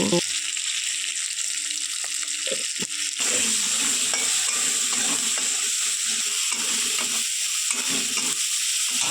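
Green chillies and spices fry in a pan for a vegetable curry with amaranth greens and stalks, a continuous loud sizzling hiss with faint clicking stirs that grows fuller partway through.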